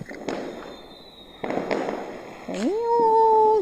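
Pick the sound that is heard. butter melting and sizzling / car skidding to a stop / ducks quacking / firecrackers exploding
firecrackers exploding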